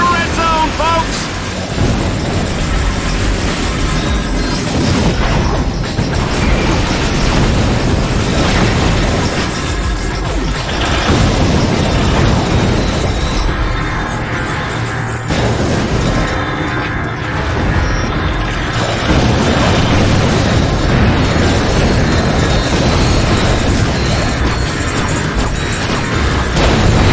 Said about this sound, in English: Oh, the explosion, the gunfire, the carnage! This is Dread Zone, folks!